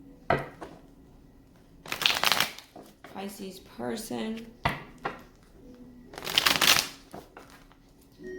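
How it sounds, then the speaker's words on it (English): Tarot cards being shuffled in several quick riffling bursts, with a person speaking between and over the shuffles. "2 more shuffles."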